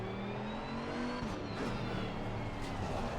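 A GT2 race car engine drones in Assetto Corsa Competizione, a steady, deep, rising note heard from the cockpit, with a slight shift in pitch partway through and no talking.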